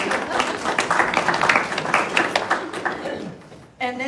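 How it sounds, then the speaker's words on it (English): Morning chamber coffee audience clapping together at close range, a dense patter of many hands that swells and then fades out, with a voice briefly cutting in at the end. "Everybody give yourself a clap."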